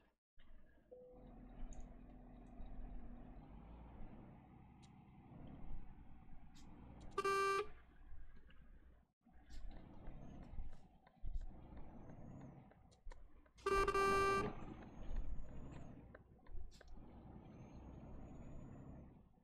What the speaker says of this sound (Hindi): हॉर्न भी अच्छा है, मतलब बहुत ज्यादा अच्छा नहीं,